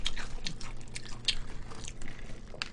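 Crispy crunching bites and chewing of BBQ golden olive fried chicken, eaten with rubber gloves, with sharp crackly crunches standing out over a steady close-up mouth-noise background and no talking.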